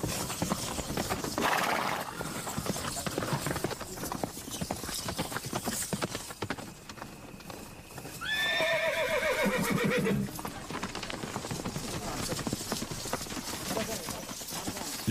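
Horses neigh and hooves clip-clop steadily, a clear whinny rising midway over a constant patter of hoofbeats, with a voice narrating over much of it.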